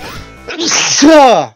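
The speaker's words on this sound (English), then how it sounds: "I keep sneezing." A single loud, close sneeze: a quick intake of breath followed by a forceful burst that trails off into a voiced tail.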